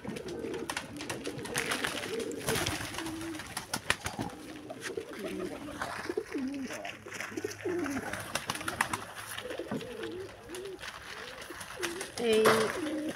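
Pet pigeons on a pigeon farm coo in low, soft, repeated rolling calls close to the microphone, scattered throughout with occasional rustling and wing movement, while a person speaks over them.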